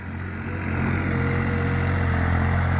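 A New Holland 3600-2 diesel tractor engine runs steadily in a field, a continuous loud, low droning rumble with a faint clattering edge and no talk.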